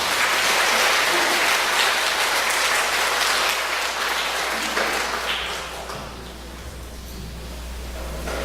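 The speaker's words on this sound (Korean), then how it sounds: "뜨거운 박수로 환영해 주십시오." Warm applause from a gathering at a religious order welcoming a nun to give a lecture: a loud, thick roar of clapping that holds strongly, then fades and dies away over the last couple of seconds.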